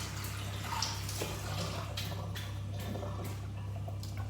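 Filtered water runs steadily from a tap for washing, a continuous splashing rush with a few brief louder spatters, close by and without talk.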